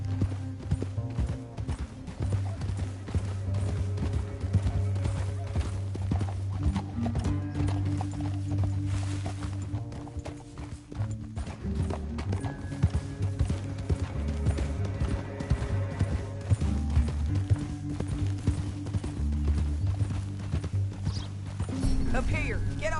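Horses gallop in a Western video game, their rapid hoofbeats drumming steadily at moderate volume for over twenty seconds under music and occasional voices.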